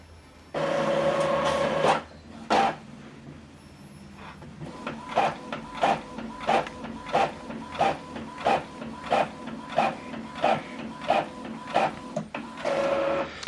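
An Epson printer runs a black-and-white double-sided print job, giving a loud mechanical burst, then a steady train of rhythmic feed-and-carriage strokes repeating roughly every half second, close and alone.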